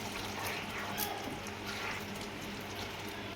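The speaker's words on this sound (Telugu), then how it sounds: "ఇంకొంచెం వాటర్ వేసుకొని" Water is poured into simmering soya and potato kofta curry gravy in a pot, a steady, even wash of liquid running for a few seconds with no voices.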